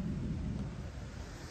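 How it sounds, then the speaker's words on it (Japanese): Thunder during a heavy rainstorm in Kumamoto, a low, faint rumble rolling on for over a second with a soft rain-like hiss above it and no one talking. "今ゴロゴロって雷が降ったですね"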